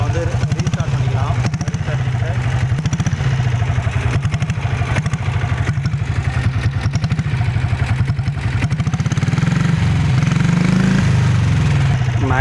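A diesel Bullet motorcycle with its silencer fitted idles close by in a loud, steady, rapid thump, the rhythm slightly uneven, with a brief rise in engine revs near the end.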